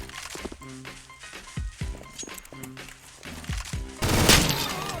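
Video game gunfire in Roblox Arsenal, several loud close shots spaced through the clip over game music and effects, with a louder, noisier burst near the end.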